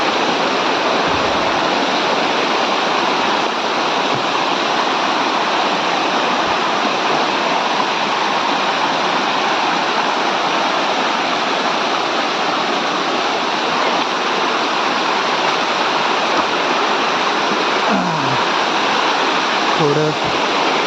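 A forest waterfall at Kalambaste, Sangameshwar, pours in a loud, steady, close roar of rushing water, with a voice briefly breaking through near the end.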